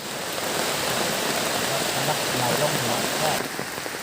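Rain pours down outdoors in a steady, dense hiss of drops hitting the ground and surfaces, constant and fairly loud throughout, with a voice faintly present beneath it.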